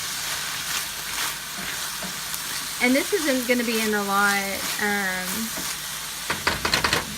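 Chopped onion and bell pepper sizzle steadily in a hot pan while being stirred to soften for a coconut curry chicken base, a constant close frying crackle running under a person talking.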